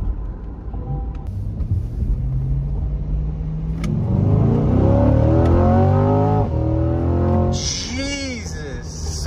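A Chevrolet Corvette C8 sports car accelerates hard, its engine rising in pitch through rapid revs and gear changes, loud and close from inside the cabin, with a voice briefly heard over it.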